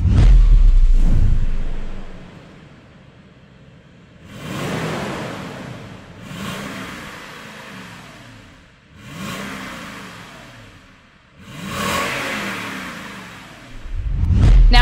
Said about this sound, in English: We're going to still rev it a little bit.